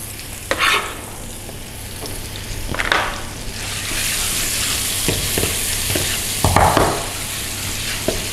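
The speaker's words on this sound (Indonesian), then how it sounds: "Nah, bawangnya kita tumis." Onions and smoked beef sautéing in a frying pan for an Indonesian-style spaghetti carbonara, a steady close sizzle with repeated scraping stirs and clatters of the utensil against the pan.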